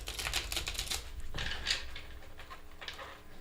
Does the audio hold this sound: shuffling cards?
yes